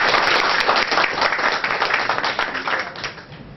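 A church congregation at a Sunday service breaks into sustained applause, dense steady clapping from a large group that slowly thins and fades toward the end.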